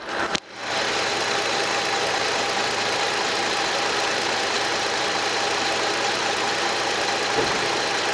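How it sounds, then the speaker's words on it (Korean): A Kia K7 VG270 sedan engine idles steadily with a low, even rumble after a brief click at the start, running alone without speech. "엔진룸 개방해봤고 엔진 소리 한번 들어보도록 하겠습니다"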